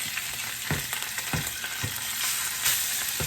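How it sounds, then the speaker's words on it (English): Salmon sizzles skin side down in a hot pan over medium-high heat, a loud, close frying hiss broken by a few sharp pops and spatters, with no voices. "We're going to put the salmon in here, skin side down."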